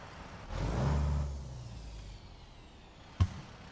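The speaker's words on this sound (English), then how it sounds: "the engine sound is from a SlavJerry engine mod" Modded engine of a truck with a stock 505 horsepower motor in American Truck Simulator, a low steady drone that swells briefly near the start, then idles on, with one sharp knock near the end.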